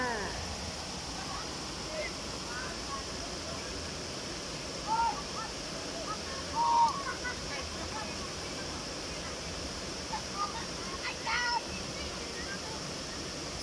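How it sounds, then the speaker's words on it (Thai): Huai Chan waterfall in Khun Han, Sisaket, Thailand, rushes in a steady broadband hiss, with faint bird chirps and a few brief louder bumps over the flowing water. "เราจะนั่งดูน้ำตกกันค่ะ"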